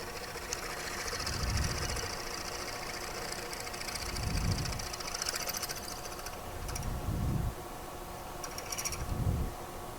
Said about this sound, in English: So I have an 8 millimeter bit chucked up into our drill press, a little tap magic.